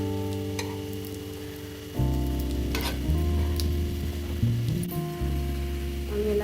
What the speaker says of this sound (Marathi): स्टफ केलेले मी इथं पापड फ्राय करून घेतो